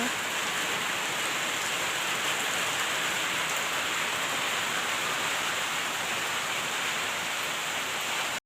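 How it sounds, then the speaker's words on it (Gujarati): Heavy rain falls in a steady, dense roar that stays loud and unbroken throughout, with no voices. "ત્રણ દિવસથી સતત વરસાદ આવે છે"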